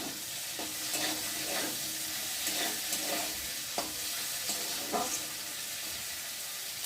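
Mustard paste ground with green chillies sizzles and fries in hot oil, a soft continuous crackle with occasional stirring scrapes, quiet and close, no voices.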